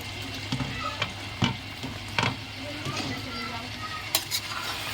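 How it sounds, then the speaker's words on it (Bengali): Chicken curry with potatoes being stirred in a pan, with a steady sizzle of frying beneath repeated scraping strokes of the spoon, close and moderately loud, with no talking. "এখন একটু নাড়িয়ে নেব"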